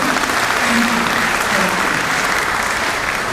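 Sustained applause from a large audience at a university congregation ceremony, a dense, steady wash of clapping filling the hall from start to finish, with a faint voice briefly audible beneath it.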